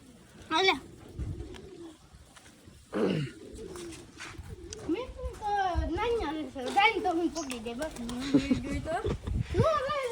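A trained pigeon held in the hand coos in soft, repeated throaty notes, close by, while people talk over and around the calls.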